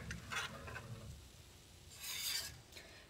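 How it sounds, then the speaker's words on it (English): A ladle scrapes and stirs through simmering mixed nuts kheer, giving two soft, raspy bursts of stirring separated by a quiet stretch, close and fairly faint. "make sure you keep stirring the kheer"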